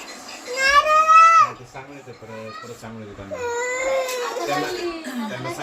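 A baby cries in loud, wavering wails close by, breaking into whimpering sobs, with a voice and adult talk mixed in around the crying inside a home.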